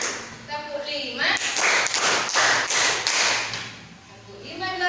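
Students clap together in a five-clap pattern, a run of loud, regular, crisp claps in the middle, framed by a teacher talking before and after.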